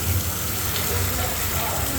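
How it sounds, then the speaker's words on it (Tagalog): Tap water gushes steadily into a sink with an automatic draining system, a continuous rushing hiss close by with no pauses. "Bubuksan natin guys ha. Tapos tingnan natin kung aabot dito, tapos kusang bababa yung tubig."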